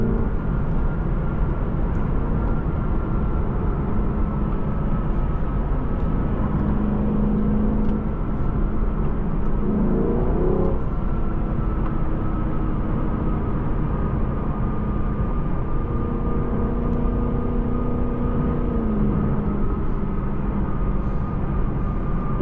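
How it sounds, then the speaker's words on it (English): A 2018 Lexus LC 500 with a V8 engine on a test drive in Sport Plus mode, giving a steady loud engine drone and road noise from inside the cabin, with slight pitch rises, for over twenty seconds. "I can never get tired of hearing that V8."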